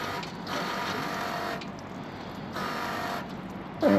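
A Caterpillar D6R dozer's starter cranks its engine without it catching, a steady mechanical whir in repeated surging bursts, close and loud with no speech.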